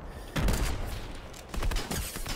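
Rapid bursts of gunfire in a Fortnite match, several close, loud volleys cracking in quick succession with brief pauses between them.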